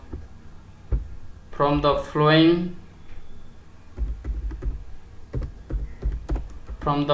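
Computer keyboard keys click in short, scattered bursts while text is typed in GeoGebra, with someone talking over part of the typing.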